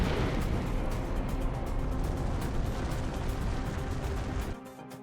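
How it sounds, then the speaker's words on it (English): A huge asteroid explosion on impact with Earth, with the rock arriving at 50,000 miles per hour, roars as a dense, loud, sustained blast rumble that fills the sound until it cuts off abruptly near the end. "the explosion is far greater."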